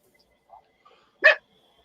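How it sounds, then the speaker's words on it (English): A puppy gives one short, close bark, preceded by a couple of faint soft whimpers, in an otherwise quiet indoor room. "And there's my puppy talking."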